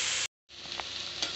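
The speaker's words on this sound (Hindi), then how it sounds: "प्याज हमारा अभी भून रहा है।" Onions frying in a pan until golden, a close, bright hiss of sizzling oil that cuts out for a moment and then resumes with small crackles.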